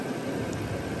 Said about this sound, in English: I just let my engine idle and stuff.